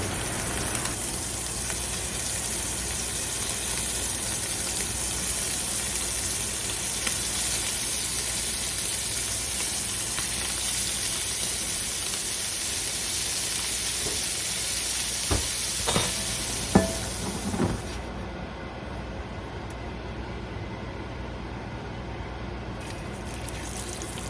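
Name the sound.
food sizzling in hot pan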